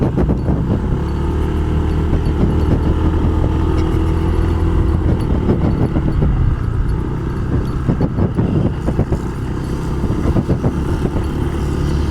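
A road ride near Tagaytay with a pickup truck following closely behind, giving a steady, loud engine and road drone for the whole stretch, with some rattling and clatter mixed in and no voices.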